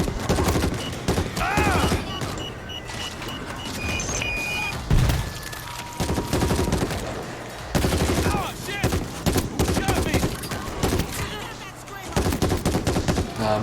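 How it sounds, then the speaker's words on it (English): Repeated heavy rifle shots with explosive impacts in the zombie shooter World War Z's New York section, loud bursts landing every second or so amid a dense din of other gunfire and chaos. "That's the payload rifle. Sort of like explosive sniper."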